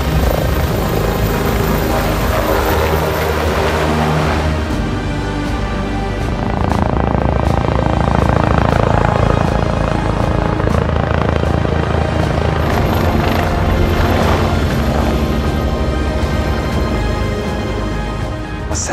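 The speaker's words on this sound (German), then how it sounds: "Der Helikopter ist gekommen" A rescue helicopter arriving for a winch rescue in the mountains around Zermatt, its loud, close rotor and engine roar steady and unbroken throughout, with no voices.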